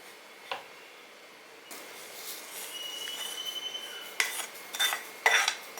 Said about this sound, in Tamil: ரவை வந்து வறுத்தாச்சு, நம்ம ஒரு தட்டில் கொட்டிக்கலாம்.